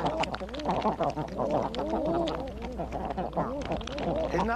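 A flock of dunters, eider ducks, call together at fresh water on a rocky Shetland shore, overlapping soft cooing and crooning notes rising and falling continuously at close range.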